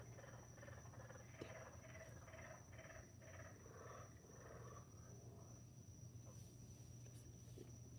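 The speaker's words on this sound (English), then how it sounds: "The frogs are mating. That's the sound they make when they mate." Frogs calling during mating season in Florida, a faint continuous chorus of pulsing trills with a steady high drone beneath, heard from a distance with no talk.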